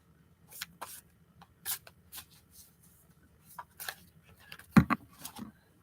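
Oracle cards being shuffled by hand, a series of soft papery riffles and flicks in short bursts with a sharper slap near the end as a few cards drop, close and quiet with no talking.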